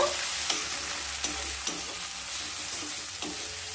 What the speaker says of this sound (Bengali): সমস্ত মশলাকে খুব ভালোভাবে এবার কষিয়ে নেব